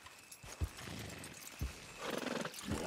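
Horses in the Red Dead Redemption 2 video game give a few hoof thuds and a rough neigh over a restless outdoor background, with a louder flurry of movement near the end.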